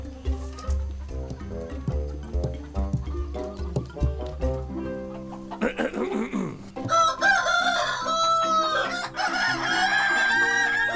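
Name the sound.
children imitating rooster crowing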